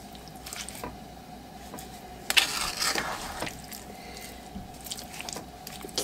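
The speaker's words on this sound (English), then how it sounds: "I'm just going to snip them with my kitchen shears as I stir them to the top." Strawberry fig preserves are stirred while kitchen shears snip the figs, producing close, wet squishing and dripping sounds with a sharper burst in the middle and softer stirring around it.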